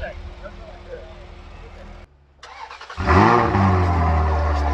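A Maserati with a DS Sport exhaust pulls hard on a highway: a low engine drone, a brief lull, then a loud rising rev as the car accelerates, heard from inside the cabin with people talking over it.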